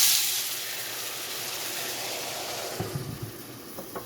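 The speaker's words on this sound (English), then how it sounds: "We're just going to take about a cup of water, pour that in the pan, and cover it with a heavy lid." About a cup of water poured into a hot pan of potstickers bursts into a loud hiss of steam. The hiss then settles into a steady sizzle, with a few soft clanks near the end as the heavy lid goes on.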